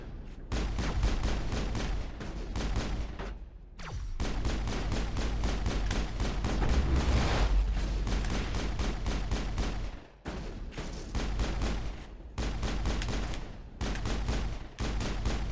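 Gunfire in the video game Mass Effect: sustained bursts of rapid automatic shots in quick rattling runs, broken by short pauses, loud and close, with heavy low booms mixed in and no talking over it.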